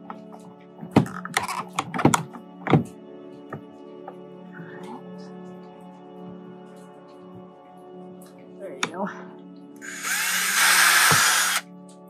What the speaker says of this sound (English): we're just pre-drilling these holes